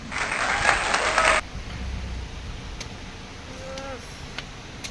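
A brief burst of clapping from a small group of people on a family trip, loud and close for about a second before it stops, followed by quiet background ambience and a few faint tones.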